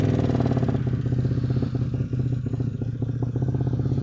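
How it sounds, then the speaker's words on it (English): A cold-started Harley-Davidson motorcycle engine idles close by, its steady lumpy V-twin chug loud and continuous throughout with a slight rattly clatter. "Little cold start for the boys."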